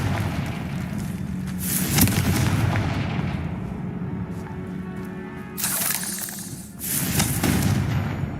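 In the Hogwarts Legacy video game, the Confringo blasting spell explodes as a loud, roaring barrage of booms and crackling blasts. The noise sustains, dips briefly, then surges again twice.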